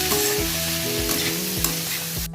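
Garlic fries in a pan over a lowered gas flame, a constant close sizzle broken by repeated scraping stirs at a steady rhythm.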